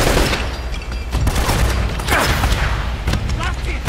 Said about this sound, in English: Get naded.